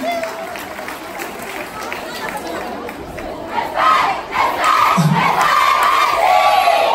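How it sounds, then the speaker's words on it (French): An audience at a dance contest in St Saulve cheers and shouts for the participants, a dense, loud crowd roar that swells midway and stays strong to the end, with voices mixed through it. "Je pense qu'on peut les applaudir bien fort, s'il vous plaît."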